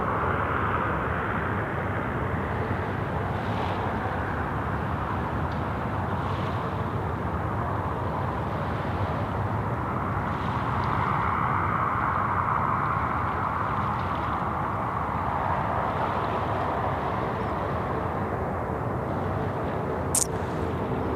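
An airliner takes off from runway 34 right at Sydney Airport, its jet engines roaring as a steady, loud, broad rumble that holds throughout and swells slightly midway.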